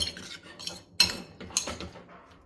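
Spoon stirring banana stem buttermilk kootu in a metal pot, giving a few scraping and clinking strokes with brief pauses between, close and fairly quiet.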